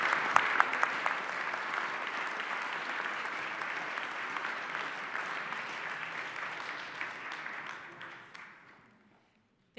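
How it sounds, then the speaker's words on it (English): Conference audience applauding steadily for about eight seconds, a dense wash of clapping that fades out near the end, fairly distant and moderate in level. "after a round of applause"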